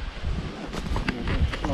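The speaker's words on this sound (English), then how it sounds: "And our wind is blowing straight to where they are." Wind gusts across a riverbank on a stormy day, buffeting the microphone with low, uneven rumbles and rustling bursts that swell and ease over a couple of seconds.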